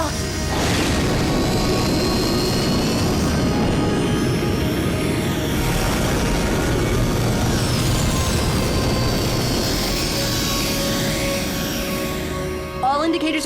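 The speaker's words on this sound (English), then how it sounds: "We have ignition powering vertical." Rocket liftoff in an animated show: a loud, steady engine roar holds throughout, with a rising whine over it and voices speaking across the roar.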